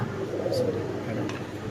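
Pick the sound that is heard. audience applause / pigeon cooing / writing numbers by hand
pigeon cooing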